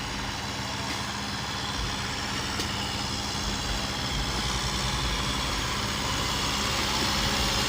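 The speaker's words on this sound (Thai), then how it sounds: "ตอนนี้รถไถกำลังดำเนินการอยู่ครับ" A tractor engine runs steadily while working at a roadbuilding site where dirt is being dumped, a continuous loud mechanical drone with no talk over it.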